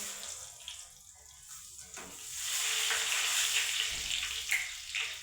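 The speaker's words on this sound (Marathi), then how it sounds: "हे पहा तेल आपलं गरम झालेलं आहे तर आपल्याला ते पोहे टाकून तळून घ्यायचे" Flattened rice (poha) fries in hot oil for Diwali chivda, giving a steady, loud broadband hiss that swells after the first couple of seconds and holds with no voices.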